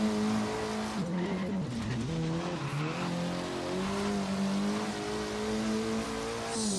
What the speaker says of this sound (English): Those front tires breaking loose coming around that corner.